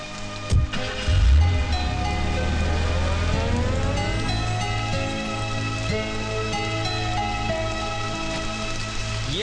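Rain falling at night, a steady hiss of drops running the whole length, with a few low thumps near the start and a faint rising siren-like tone in the background; no talk.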